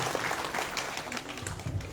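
An audience at an Urdu seminar in Purnia breaks into close, steady applause to welcome a speaker to the podium, a brief dense patter of clapping with no voices over it.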